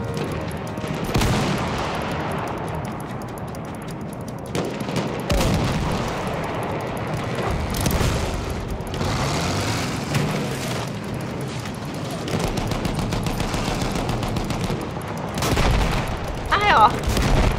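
Battlefield 1 battle din with machine gun fire, chattering shots mixed with explosions and booming artillery, loud and continuous, with voices talking over the fighting.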